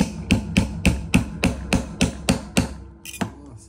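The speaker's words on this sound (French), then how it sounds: "cette fois-ci, je vais aller au marteau" Hammer tapping a small pin into an Opinel folding knife: about ten sharp, evenly paced metallic taps, close and distinct, with slightly softer hits near the end.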